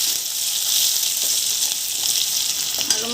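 Green chilies frying in hot oil with browned ginger-garlic paste give a steady, loud hiss and crackle, close up, with faint stirring clinks toward the end.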